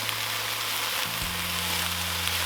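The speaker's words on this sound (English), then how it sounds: "with things like frying up potatoes," Potatoes frying in a pan on a stove, giving a steady, loud, even sizzle and crackle that carries on without pause and with no talking.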